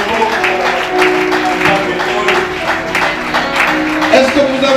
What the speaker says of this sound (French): On acclame très fort ce grand Dieu.